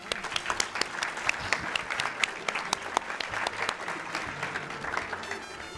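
Steady applause from a crowd at a Hispanic and Latin American heritage celebration, many hands clapping densely and evenly throughout, fairly loud and close.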